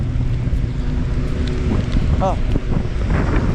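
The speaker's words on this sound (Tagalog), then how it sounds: "Ang lamig. Grabe ang hangin." Strong cold wind roars against the microphone during a ride in Chicago, a constant loud rumble with a brief voice exclamation in the middle.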